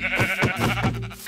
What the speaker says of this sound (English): Ah, look, sheep.